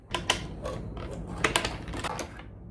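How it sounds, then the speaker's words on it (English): A small kitchen screwdriver backs out two screws inside a garage fridge, making close, light clicking, ticking and scraping sounds in irregular bursts with brief pauses. "Take out the 2 screws holding that in."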